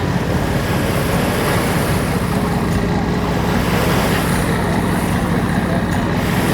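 Loud, steady wind and water noise by the river at the Washington Harbour waterfront as yachts pass, a continuous broadband roar with heavy wind buffeting on the microphone.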